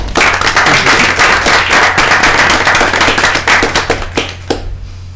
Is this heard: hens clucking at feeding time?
no